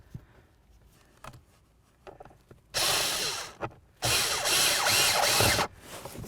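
A power drill drives screws into the plastic blower motor housing of a 2005-2010 Chevrolet Cobalt, with two loud whirring bursts, the second longer, between quieter clicks and handling noises.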